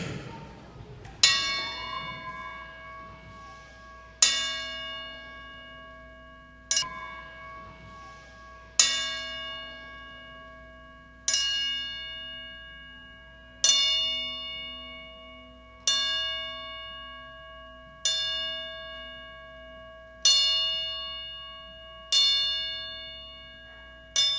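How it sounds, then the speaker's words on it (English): A single bell is struck ten times in a slow, steady salute honoring those lost to cancer, each clear ringing strike decaying into long sustained tones before the next, with faint room noise underneath. "We're going to have a 10-bell salute for anyone that has lost a family member or anyone to cancer."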